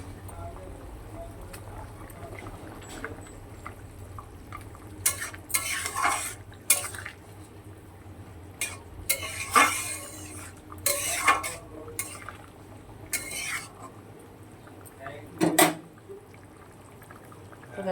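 A utensil stirs fish and potol curry with vadi in a pan in bursts of scraping and clinking against the metal, close by, between quieter stretches of low bubbling.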